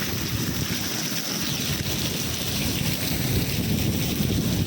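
Sea waves and wind along a rocky Konkan shore, with a continuous broadband roar of surf and gusting wind buffeting the microphone, steady and close throughout.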